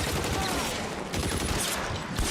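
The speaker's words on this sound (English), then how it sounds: "Stop shooting him." Rapid bursts of gunfire from the video game LA Noire fill the whole stretch, a dense, loud, continuous volley with no voices over it.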